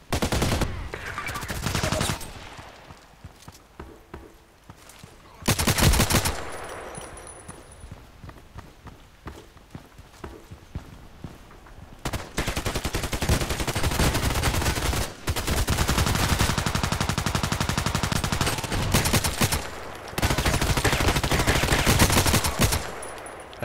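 Bursts of automatic gunfire in the shooter game Contract Wars, loud rattling volleys separated by short quieter gaps, with a few brief pauses between firing runs.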